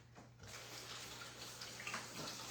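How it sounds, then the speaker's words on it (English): Organic lettuce leaves rinsed under a running kitchen tap, a steady close rush of water that begins after a brief quiet moment and continues evenly, with small splashing changes as the leaves move, no voices. "So I'm just gonna rinse this off really quickly."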